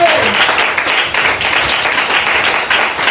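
Church congregation applauding, a steady wash of many hands clapping throughout, loud and close, with voices murmuring underneath.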